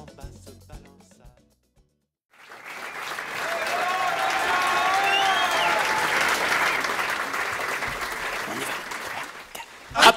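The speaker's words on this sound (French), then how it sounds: "Applaudissez ma troupe de tordus." An audience breaks into applause after a sung children's number, the clapping swelling from silence into a steady dense wash before a brief loud burst at the end.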